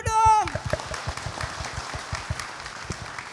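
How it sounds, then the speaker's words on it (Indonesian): Studio audience applause on an Islamic religious TV talk show: dense, sustained clapping from a crowd that follows a brief voice at the start and continues steadily throughout. "Tepuk tangan dulu dong."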